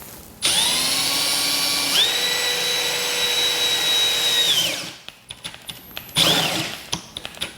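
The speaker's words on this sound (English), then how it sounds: "go and drill us a hole." A power drill bores a hole into a Harley Davidson motorcycle, running loud and steady for several seconds with a rising pitch, then stopping and giving way to scattered clicks and short bursts.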